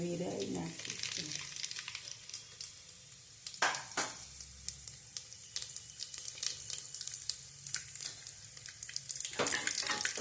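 Cumin and mustard seeds sizzle in hot oil for a Gujarati brinjal, cauliflower and pea curry, a steady close crackle with a few louder spits and utensil taps.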